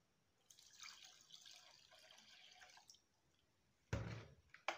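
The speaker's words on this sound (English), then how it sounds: "I'm pouring in my water now." Water pours steadily into a container while making honey bar soap, a soft rushing trickle for a couple of seconds, followed by two sharper clunks and splashes close by.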